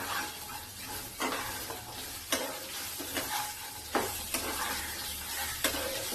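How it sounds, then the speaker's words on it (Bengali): Drumstick (moringa) pieces and potatoes frying in a pan over cumin and black cumin tempering, a steady close sizzle broken by several sharp stirring scrapes. "এখন আমি এই যে সজনা আর আলুগুলো দিয়ে দিলাম।"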